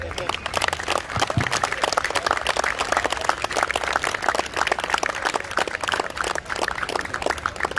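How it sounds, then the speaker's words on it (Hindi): An audience at a Holi celebration poetry recital claps steadily and fairly loudly throughout, a dense wash of hands with no pauses and a few voices mixed in. "आखिरी आपने ताली बजा दी"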